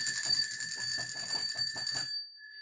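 A bright metallic bell rings in a rapid trill for about two seconds, then a fainter sustained tone lingers after it stops.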